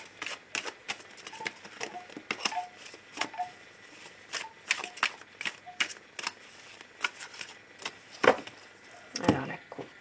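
A tarot card deck being shuffled close up, with quiet irregular flicks and riffles of cards and light handling clicks and no talk.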